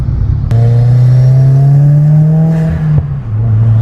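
A loud turbocharged Subaru WRX engine, Stage 2 tuned and catless, revs and holds a steady drone, with a sharp backfire pop from the exhaust near the end as it backs off.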